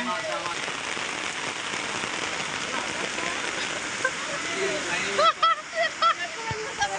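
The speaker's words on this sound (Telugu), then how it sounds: "వర్షం ఫుల్ కొడుతుందండి, మామూలు వర్షం కాదు, ఫుల్ కొడుతుంది వర్షం" Heavy rain pours steadily onto surfaces, a dense hiss of splashing drops, with voices talking faintly under it toward the end.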